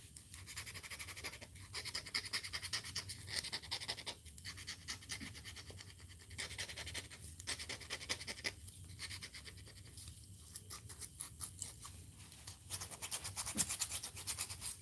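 A nail file buffs the back of a bronze metal owl in quiet, rhythmic back-and-forth scraping strokes, close and soft, with no talking.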